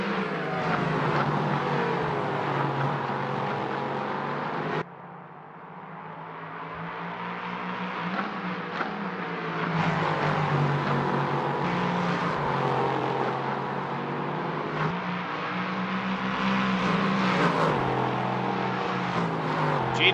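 LMP3 race cars at Spa run continuously with a loud, high engine drone, rising and falling as the cars shift and pass. One clear break comes in the middle, and the sound builds again toward the end.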